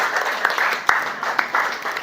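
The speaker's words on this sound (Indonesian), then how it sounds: "sekali lagi tepuk tangan untuk kelompoknya Ayu." Applause in a classroom for a student group after their presentation during a coding and AI training session, a steady patter of clapping from several people lasting about two seconds.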